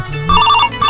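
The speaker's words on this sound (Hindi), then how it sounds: "अरे फिर काकर फोन आ गए रे?" A phone ringtone plays loud and close, a bright electronic melody of repeating tones with no voices over it.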